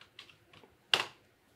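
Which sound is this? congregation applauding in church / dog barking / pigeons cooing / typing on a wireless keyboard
typing on a wireless keyboard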